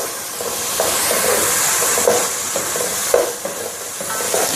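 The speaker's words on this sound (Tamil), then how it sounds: "எல்லாத்தையும் ஒன்றா மிக்ஸ் பண்ணிவிடுங்க." Turmeric, coriander powder and garam masala are stirred and sautéed in a pan for fish biryani, giving a loud steady sizzle and hiss broken by rhythmic scraping strokes, close up.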